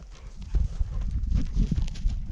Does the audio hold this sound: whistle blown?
no